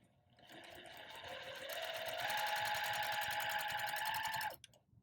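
Sewing machine stitching quilt binding, a steady rapid motor whir that builds up to speed, holds for a few seconds, then stops abruptly.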